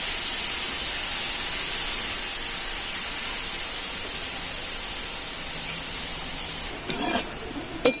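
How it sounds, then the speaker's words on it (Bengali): Potato jhuri batter fries in hot oil in a kadai with a continuous bright sizzling hiss, steady and close, ending in a few clinks and bumps near the finish. "এদিকে তেলটা গরম করতে বসিয়ে দিয়েছি বন্ধুরা। এবার কিন্তু একে একে ঝুরি ভাজাগুলো তৈরি করে নেব।"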